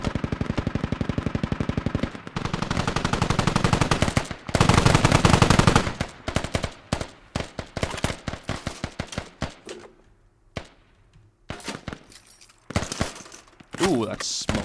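Assault rifle gunfire in the tactical shooter game Squad, with long loud automatic bursts followed by scattered single and short-burst shots that fade to distant pops with brief pauses between them.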